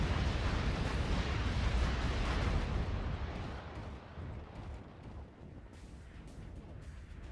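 Missile strikes from Tigre units hitting refineries in Act of Aggression, a loud, broad rumbling roar of explosions that slowly fades and thins out over several seconds.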